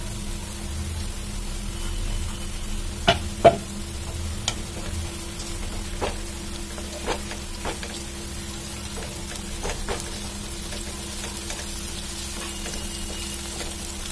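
Chicken pieces and green chillies fry steadily in oil in a pan over a medium flame, giving a continuous soft sizzle with a few brief sharp pops and crackles scattered throughout.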